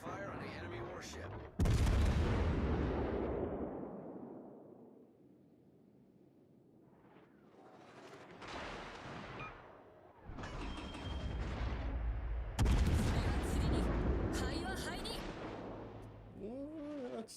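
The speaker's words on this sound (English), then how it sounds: "Concentrate fire on the enemy warship." Naval guns firing on an enemy warship in a video game, heavy booming salvos with long rolling rumbles and crackling blasts, loud and repeated over sustained battle noise.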